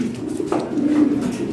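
Fancy pigeons of European toy and Lahori breeds cooing close by, a soft, low, throaty coo lasting about a second over faint background noise.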